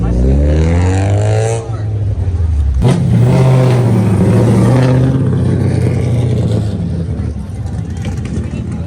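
A 250 car's engine revs up and drops back, then climbs again in loud, close bursts, with people talking nearby.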